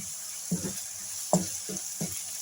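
Bay leaves and spices frying in ghee give a steady, close sizzle, broken by a few soft scraping stir strokes at irregular intervals.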